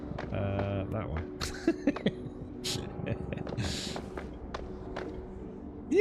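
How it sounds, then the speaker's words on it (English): A video game character's loud, clattering footsteps click in an irregular run, close, mixed with other game sounds and a voice. "Your footsteps sound really loud as well."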